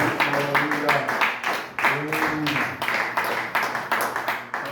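A church congregation claps in a steady, rhythmic beat, loud and close, while voices sing and acclaim together over the clapping.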